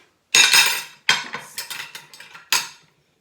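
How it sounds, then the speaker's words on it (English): Spoons scrape and clink against a bowl as rum punch fruit is scooped out, three sharp bursts of metal-on-bowl contact with a run of smaller knocks between them, close and clear. "I'm just going to grab a spoon, a couple of spoons. So we just literally spoon this out of here."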